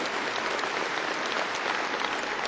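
Thick, even applause from a large audience at a university spring commencement ceremony, many hands clapping at once in a steady roar that holds at full strength from start to finish.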